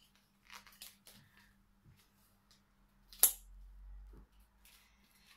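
A food product package from a Dégustabox subscription box is opened by hand with soft, quiet rustling and crinkling, a single sharp snap midway, then a brief low rumble.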